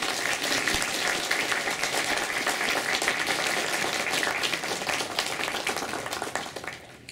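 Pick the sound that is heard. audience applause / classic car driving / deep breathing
audience applause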